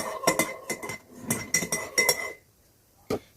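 A spoon stirring a honey, lemon and ginger drink, clinking sharply against the glass in quick irregular taps, then a pause and a single final clink.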